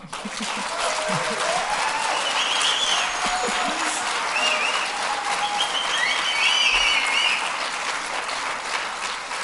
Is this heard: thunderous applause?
yes